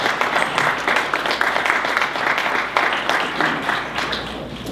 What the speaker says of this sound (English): I ask you to join me in applause to all of the staff and all of the pharmacists for what they've done.